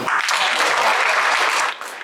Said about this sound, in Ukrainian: І ось воно урочисте погашення марки під оплески присутніх на заході медиків головної госпітальної бази області